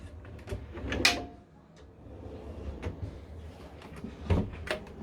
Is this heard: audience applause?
no